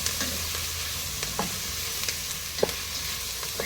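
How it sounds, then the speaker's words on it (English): Peaches simmer with cinnamon sticks in a pot while a spoon stirs them, giving a few soft clicks and scrapes over a steady, low bubbling hiss, close and quiet. "give that a stir"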